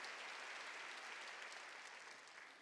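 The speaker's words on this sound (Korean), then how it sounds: "박수로 하나님께 영광 돌리라는 거죠" A church congregation applauds to give glory to God during a Korean sermon, a steady dense wash of clapping that fills the whole stretch and tapers only slightly at the end.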